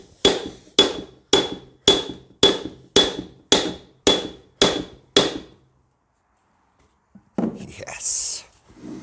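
Heavy metal hammer blows strike a Tesla Model 3 drive unit, ten sharp ringing hits in an even rhythm, close and loud, followed by a pause and then faint shuffling and voices.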